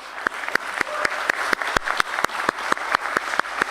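Audience applause at a stock exchange listing ceremony, steady rhythmic clapping from a crowd with regular sharp beats throughout.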